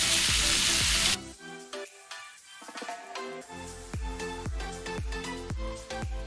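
Steak searing in a hot pan opens with a loud, bright sizzle that drops away sharply as the meat is flipped. Rhythmic clinking and scraping sounds follow over a softer fry, and no one speaks.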